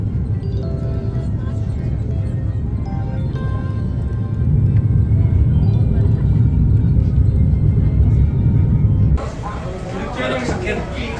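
Steady low engine roar fills an aircraft cabin, a constant droning rumble that swells slightly midway, with some talking mixed in.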